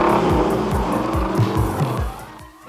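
Porsche-engined Quaker State IndyCar screaming at 11,000 RPM, a loud, close, high-revving engine with rapid rhythmic pitch sweeps as gears shift, steady throughout and fading briefly at the end.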